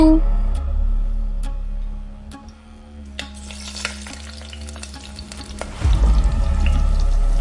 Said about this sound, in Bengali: জুই মাছ ভাজা শুরু করলো